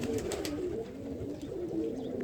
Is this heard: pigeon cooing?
yes